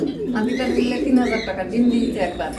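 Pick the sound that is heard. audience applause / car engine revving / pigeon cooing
pigeon cooing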